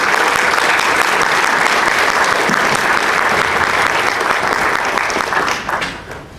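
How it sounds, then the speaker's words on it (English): An audience at a speaking event at a Christian school claps for a speaker: dense, loud applause that holds steady, then fades out over the final second. "So let's give him a good round of applause."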